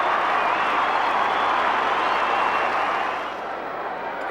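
Football crowd at a 2001 AFL match between Port Adelaide and Essendon, a loud, sustained roar of cheering and applause from a large stadium audience that eases slightly toward the end.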